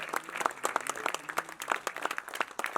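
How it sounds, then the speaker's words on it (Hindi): A wedding audience claps steadily for the groom, a dense patter of applause that carries on without pause. "तालियां जोरदार बजती रहनी चाहिए"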